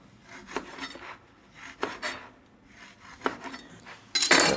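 Knife scraping and rasping through the crisp, over-baked edges of a Southern caramel cake layer, giving a few short separate scrapes with pauses between them, then a louder burst of rough rasping at the end, with no talk.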